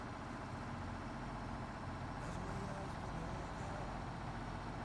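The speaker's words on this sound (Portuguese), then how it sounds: "o caminhão tá dando pra ouvir" A truck rumbles nearby as a constant dense, broadband roar that fills the whole stretch evenly, with no distinct onset or fade.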